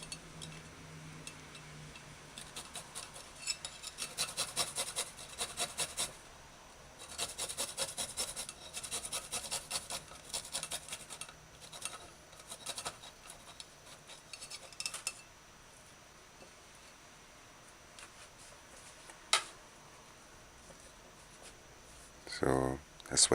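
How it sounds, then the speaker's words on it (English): Garlic and ginger ground to a puree for a chicken broccoli stir-fry, a steady scraping, rasping rub in repeated bursts that stops and restarts, quiet and close, with a clatter near the end. "grind the garlic to puree,"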